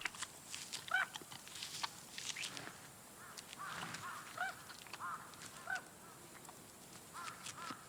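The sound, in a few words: noisy birds calling in Russian forest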